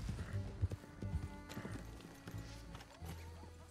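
Rhythmic clip-clop of horse hooves trotting at a steady pace in Red Dead Redemption 2, close and distinct, with a brief whinny and light background ambience.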